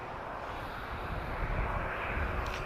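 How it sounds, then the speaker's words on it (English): A Ryanair Boeing 737 jet departing Lisbon Airport, its engines producing a steady, broad roar that holds at an even, fairly loud level throughout, with no voices. "it's a Ryanair, so it's going to be a 737"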